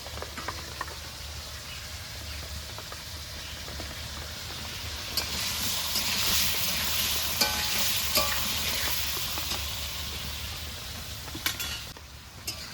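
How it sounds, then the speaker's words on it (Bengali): Potatoes frying in a pan for a Bengali rui fish curry, a steady close sizzle with stirring and occasional utensil clinks against the pan, growing louder in the middle. "আলুগুলো লাল লাল করে ভাজা হয়ে গেছে"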